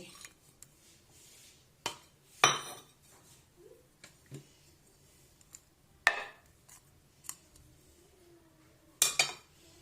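A spoon mixes chana chaat with almonds and dates in a bowl, giving sparse, quiet metallic clinks and scrapes at irregular intervals, with a few sharper taps standing out against a near-silent background.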